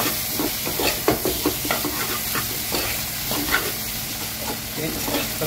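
Ingredients for Kerala-style egg rice are stirred in a frying pan, with a steady sizzle underneath and repeated scraping, clattering spoon strokes throughout.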